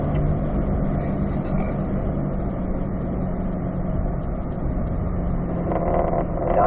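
A Corvette on a race track holds a loud, continuous engine roar as it accelerates and shifts up to fifth gear, steady and close, with a few faint clicks near the end.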